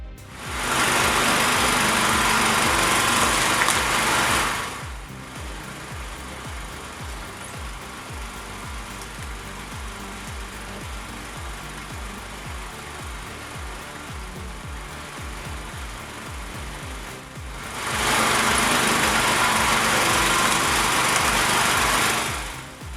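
A firewood processing machine with a thermal engine and cutting blade runs steadily. Louder bursts of its working noise come at the start and again near the end, over a continuous motor hum.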